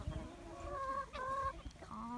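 Chickens cluck and squawk in short, rising calls while one is being picked up by hand, close and fairly loud with a couple of overlapping voices.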